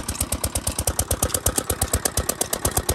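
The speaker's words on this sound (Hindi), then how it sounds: "अभी ट्यूबवेल बंद करने का टाइम हो चुका है, तो ट्यूबवेल को बंद करते हैं" A tubewell engine runs beside a paddy field on a farm, chugging in a fast, even rhythm of regular thumps. It is loud and close, with no voices over it.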